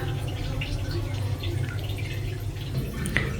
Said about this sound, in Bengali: দিয়ে কুমড়াটা ধুয়ে নিব